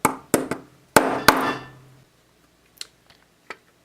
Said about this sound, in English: we're just going to give it a couple of whacks with a ball peen hammer,